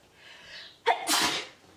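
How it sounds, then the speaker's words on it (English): A single loud sneeze from a woman with hay fever allergy, a brief indrawn breath building into a sharp burst indoors during a makeup session, with no talk over it. "she's just sneezing the whole day"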